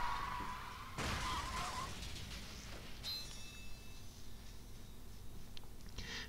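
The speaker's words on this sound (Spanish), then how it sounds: "La bonita campana." A bell rings inside the video game The World Ends With You, a thin, high, shimmering tone that sustains and slowly decays after a rougher burst of game sound, fairly faint and without speech.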